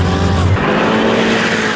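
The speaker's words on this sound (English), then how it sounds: "I stuffed a V8 engine into a personal watercraft." A turbocharged V8 engine in a personal watercraft roars loudly and steadily, its deep growl rising briefly before holding at a high, throaty pitch.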